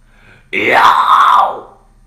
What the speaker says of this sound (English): That is what happens when you make the Whisperscream loud.